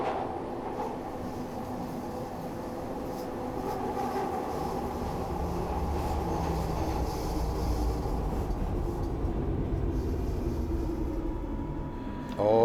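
A Glasgow Subway train in Train Simulator Classic runs steadily with a continuous rumbling rail hum. It brakes near the end, where a short squeal rises, and a voice talks over the train noise.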